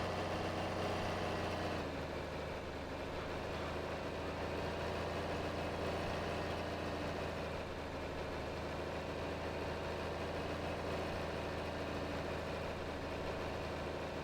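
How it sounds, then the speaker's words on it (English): A steady, droning John Deere 4020 4WD tractor engine in Farming Simulator 22 runs continuously under heavy pulling load, a low rumbling hum with no speech, its pitch holding nearly constant throughout. "Oh, listen to that John Deere work."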